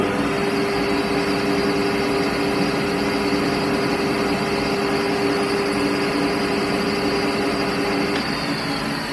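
A metal lathe with a homemade compound slide power feed, facing 0.2 off a back face and cutting a chamfer, gives a steady, unbroken mechanical whir and drone that holds at one level throughout, with no voices.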